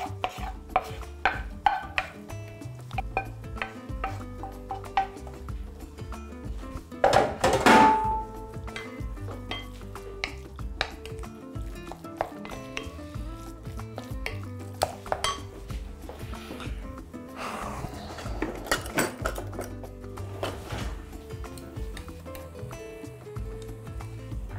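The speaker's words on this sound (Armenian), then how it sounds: "Աղացած մսի վրա լցնում ենք տապակված բաղադրիչները։" Fried ingredients are tipped onto minced meat for momo filling, with repeated clinks and scrapes of a spoon against a bowl and a brief louder clatter midway.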